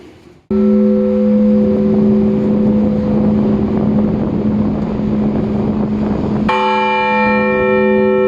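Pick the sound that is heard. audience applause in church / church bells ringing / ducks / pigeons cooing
church bells ringing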